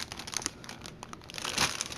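Plastic packaging on a collector's edition game set is cut open with scissors, giving close, steady crinkling and crackling with brief tearing bursts, louder near the end.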